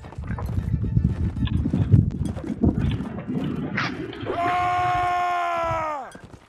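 Horses clip-clopping in the Mount&Blade jousting game, rapid hoof beats under overlapping voices of players talking, followed by a sustained tonal cry that fades out at the end.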